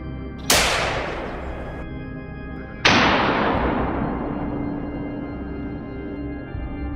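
Two loud, sharp rifle shots ring out outdoors during a wild boar hunt, about two seconds apart. Each blast trails into a long, decaying echo.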